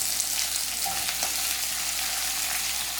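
Thinly sliced onions hit hot oil with whole spices and green chillies for chicken rice, giving a steady, close, broadband sizzle that holds evenly throughout with a few faint stirring clicks and no voices.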